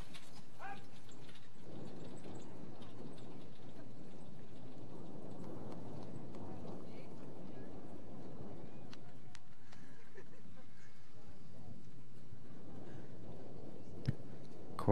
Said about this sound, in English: Nice and strong trot, horses looking in good form.